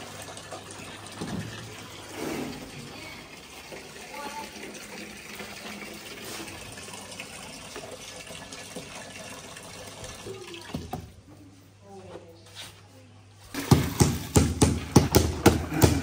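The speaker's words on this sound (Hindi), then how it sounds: "पानी अभी इसके अंदर डाल रहे हैं ताकि अच्छे से मसाले को मिक्स करके रेडी कर लें" Water pours into cement mortar mix being prepared for a stair renovation, a steady splashing gush heard close up, followed near the end by a few sharp scraping or knocking sounds.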